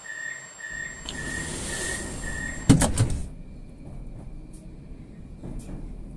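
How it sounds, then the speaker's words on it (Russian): Moscow metro train doors slide shut with a sharp clunk after a steady warning tone, followed by a quieter rumbling hum of the carriage. "Осторожно, двери закрываются."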